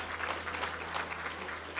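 Audience applause for an ensemble at a cultural diversity awards evening, a steady patter of many hands clapping continuously at moderate volume with a low hum beneath.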